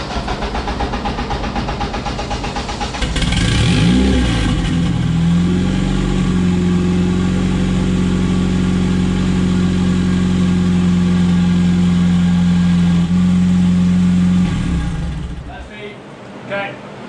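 Honda K24 engine swapped into a Porsche 996 starting up and running, a loud close rumble that rises after a few seconds, holds steady, then cuts off near the end.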